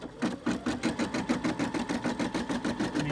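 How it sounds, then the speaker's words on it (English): A Brother M280D Disney sewing and embroidery machine stitches out a design at a fast, even rhythm, about five needle strokes per second, close and steady with no voices. "It's ready for me to start stitching out the next portion."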